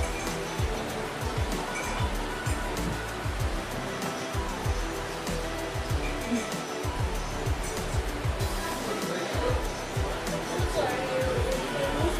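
Steady roar of ocean surf washing in continuously on a beach on Siargao Island, Philippines, with people talking in Tagalog over it nearby.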